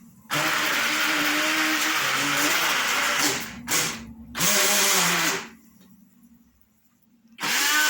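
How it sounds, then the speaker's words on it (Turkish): A blender shreds paper for recycling: a loud, harsh motorized whirring grinds steadily for several seconds, cuts out briefly, restarts, then stops, and kicks back on near the end. "kağıtlarımızı minik parçalar haline getirmek için blenderımızı kullanarak kullanacağız"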